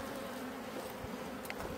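A steady, low drone of buzzing bees fills the air, continuous and fairly close, with no voices present.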